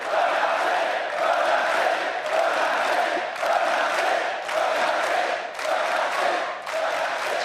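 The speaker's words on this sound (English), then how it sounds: "The cheering will go on and on." A large arena crowd at an esports Worlds quarterfinal cheers and chants in loud, rhythmic waves, swelling and dipping in repeated surges without pause.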